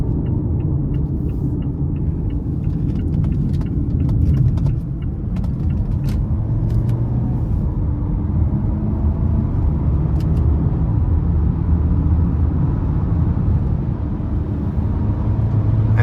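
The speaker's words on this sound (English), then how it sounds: "Actually has really good pickup as I'm merging onto the interstate here." A 2017 Mazda CX-5 Touring 2.5 accelerates while merging onto the interstate, giving a steady, loud engine and road rumble inside the cabin with faint clicks and no talk.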